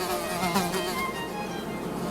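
A dense, steady buzzing of many bees from a hive fills the clip, close and loud with a wavering, droning hum and no talking.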